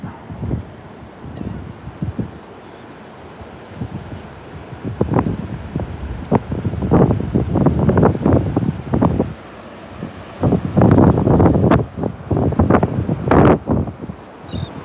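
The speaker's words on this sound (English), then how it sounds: "it's gonna get a little windy" Strong tropical storm gusts buffet the microphone in rolling surges on the Louisiana coast at Grand Isle, with a low roar of surf beneath, loud and close throughout.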